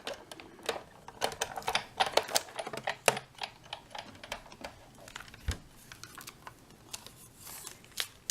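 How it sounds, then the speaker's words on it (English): A Stampin' Up! Big Shot die-cutting machine cranked forward and back through a Thinlit die with wax paper, giving a run of close, irregular clicks and ratcheting ticks with no talking. "I always roll forward and back."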